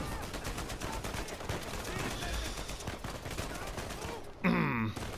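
Rapid gunfire rattles in Uncharted 4: A Thief's End, a dense burst of shots aimed at an explosive, ending in a sudden louder blast, with game voices mixed underneath.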